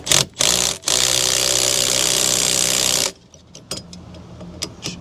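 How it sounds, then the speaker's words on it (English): A steering wheel puller's center stud is driven on a 5.7 Chevy, giving a loud, steady mechanical whir for about three seconds after brief bursts, then stopping into quieter clicks and handling noise. "we're basically attaching the puller to the steering wheel structure, and then we will pull it apart with the big center stud"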